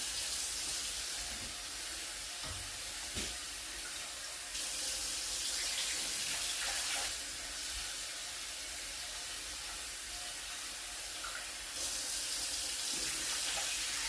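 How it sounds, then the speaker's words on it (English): Tap water running into a pot while rice is rinsed, a steady faint hiss and splash that continues without pause under no speech, with a few small clunks. "I'm just going to put some water in it, swish it around"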